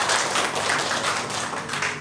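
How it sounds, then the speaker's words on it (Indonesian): Audience at a welcome gathering for school supervisors from Singaraja, Bali, clapping in a dense, steady patter that fills the whole stretch without pause. "tepuk tangan teman pengawas dari Singaraja."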